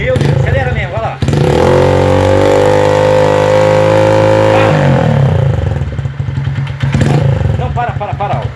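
A motorcycle engine with a knocking fault revs up and holds a steady high roar, with clattering knocks, idling stretches and someone talking excitedly over it.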